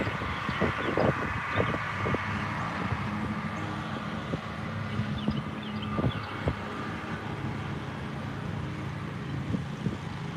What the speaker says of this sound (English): They said the wind was going to die down, and now it's kicking up pretty good.